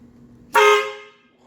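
A loud aftermarket Horn Blasters truck horn gives a single sharp, brassy blast that rings for about half a second and then fades, with a low engine hum underneath.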